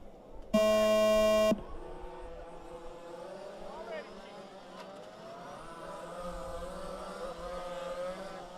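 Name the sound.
start tone for a 5th scale 4WD race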